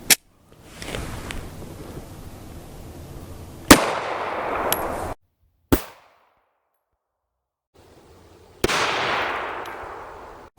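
An LCP .380 pistol fires Fiocchi 95 grain FMJ rounds into a gel block, sharp loud cracks at the start, middle and near the end, with quieter handling noise between shots.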